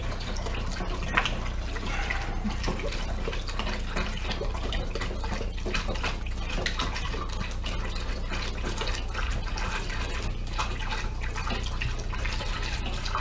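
Cold water pours steadily into a beer fermenter for a raspberry ale, a continuous close rushing and splashing that holds an even level for over ten seconds with no speech.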